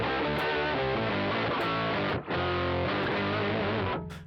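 Electric guitar played through a Mooer Tender Octaver MKII octave pedal with heavy overdrive, loud sustained distorted chords with thick low octave doubling, one brief gap midway, ringing to a sudden stop.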